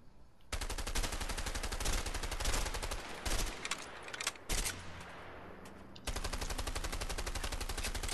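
An MP5 in the video game A Way Out fires in long, rapid fully automatic bursts, loud and close, with short gaps between strings of shots and no talk over them.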